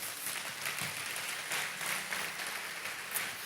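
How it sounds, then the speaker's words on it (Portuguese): A church congregation breaks into strong, sustained applause, a dense wash of many hands clapping continuously with steady loudness throughout. "Quero uma salva de palmas forte."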